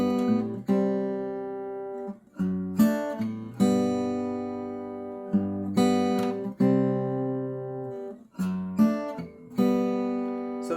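A song is fingerpicked briskly on a baritone ukulele, with clear plucked notes ringing and overlapping in a steady rolling pattern through repeated chord changes, close and fairly loud, with no voice.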